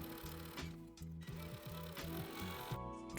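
A sewing machine stitching a seam on a slim men's dress shirt runs in quick rhythmic bursts, its needle thumping in a steady mechanical pulse with brief pauses, close and clear with no talking.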